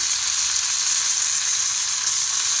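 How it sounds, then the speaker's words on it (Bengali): Chopped tomato frying with peas in a pan gives a constant, even hiss of sizzling oil, close and fairly loud, with no stirring strokes or voices standing out. "এরপর আমি এখানে দিয়ে দিলাম একটা বড় সাইজের টমেটো কুচি"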